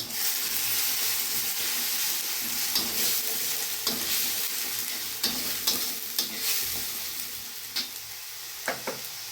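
Onion paste fries in a pan, a steady loud sizzle running throughout while a spoon stirs it, with scraping taps that come more often toward the end. No one speaks.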